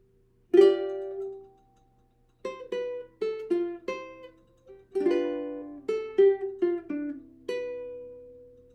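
A ukulele plays a plucked fingerstyle melody from a song, a single note then a quicker run of notes in uneven rhythm, close up with no voices.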